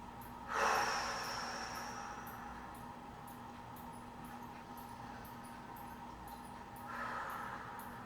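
Two deep relaxing breaths during a home exercise session, a strong inhale near the start and another softer one near the end, close and breathy over a steady low hum.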